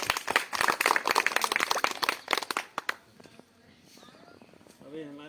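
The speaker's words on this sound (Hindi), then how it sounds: "आप लोगों का जोरदार तालियों से स्वागत करना चाहता हूँ" Loud, dense clapping from a crowd at a live political party rally, a sustained burst that cuts off after a few seconds, followed by a voice speaking over a quieter room.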